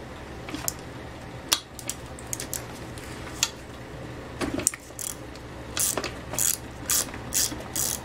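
A ratchet with a 3/8 hex socket clicks in short bursts while a part is removed from an Ex-cell VR2500-1 pressure washer, the quick pawl ticks growing more regular toward the end, with faint metallic handling.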